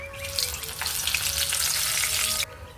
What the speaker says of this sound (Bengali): ওই আলু ভাজা তেলের মধ্যেই দেব আমি গোটা গরম মশলার ফোড়ন।